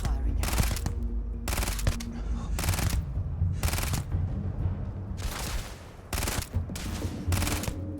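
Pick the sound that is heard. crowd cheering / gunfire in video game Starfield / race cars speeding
gunfire in video game Starfield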